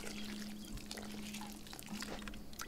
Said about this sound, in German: Wir müssen noch ein bisschen gießen hier.